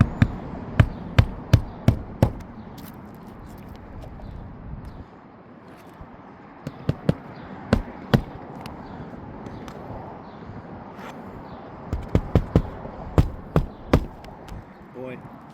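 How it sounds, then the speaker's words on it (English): Sharp hammer blows drive nails into roof shingles during a repair, coming in quick bursts of several strikes separated by pauses, with people talking faintly underneath. "as soon as you lifted, I started hammering"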